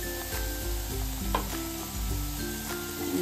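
Makhana powder being stirred into milk in a hot pan gives a steady sizzle with repeated scraping spoon strokes in a close, regular rhythm.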